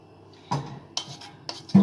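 Rice pilaf scraped off the pan edges, a few quick metal spoon scrapes and clinks against the pan, close and fairly quiet, four short strokes in under two seconds.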